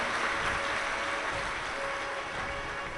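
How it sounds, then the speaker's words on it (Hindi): A large audience at a Shiv Mahapuran religious discourse claps loudly to welcome the host families, a continuous broad roar of hands that stays level throughout with a faint steady hum beneath and no speech. "एक बार सभी यजमान परिवार के लिए जोरदार ताली बजाकर स्वागत वंदन अभिनंदन"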